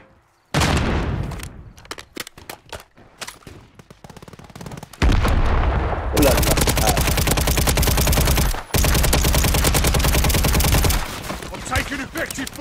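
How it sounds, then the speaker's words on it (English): Heavy gunfire in Call of Duty Warzone 3 with a Kilo-141 or MCW rifle, loud sustained automatic bursts and rattling fire, with short gaps and scattered single shots between long dense volleys, close and dominant. "I'm taking effective fire!"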